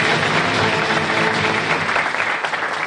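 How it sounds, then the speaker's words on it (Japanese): A large crowd gives loud, continuous applause at a film cast event welcoming the actors on stage. The clapping is thick and sustained, with no pauses. "改めまして大きな拍手をお願いいたします。"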